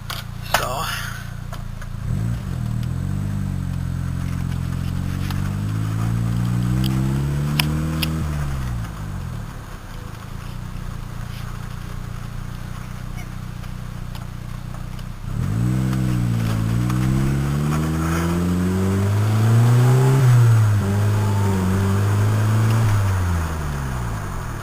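A turbocharged Honda Integra engine idles, then rises twice through a slight, smooth rev that climbs and falls back, steady and close, with someone talking over it.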